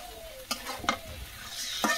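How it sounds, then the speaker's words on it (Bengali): Onion paste and ground cumin being sautéed in a pan, with a low sizzle and three sharp scraping stirs of a spoon against the pan. "খুব সুন্দর করে কষিয়ে নিচ্ছি"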